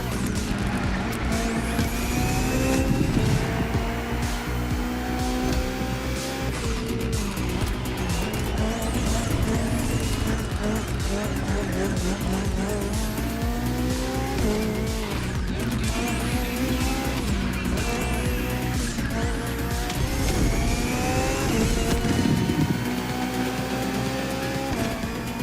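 A Hybrid V8 race car roars through a race in The Crew Motorfest, its engine revving up and down through gear shifts with tire squeal, loud and continuous throughout.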